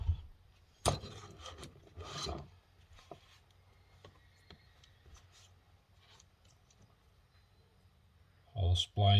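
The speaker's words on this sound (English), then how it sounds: "So now we dig a little bit further in, Pull this shaft out." Steel shaft being worked out of a Mahindra 5010 tractor final drive, with sharp scraping and rubbing metal knocks near the start, a short grinding stretch, then quieter handling and a loud clunk at the end.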